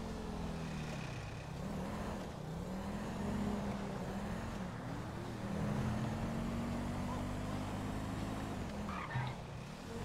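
A car engine in Grand Theft Auto Online drones and revs with rising and falling pitch as it drives through traffic, loud and continuous, with faint talk beneath.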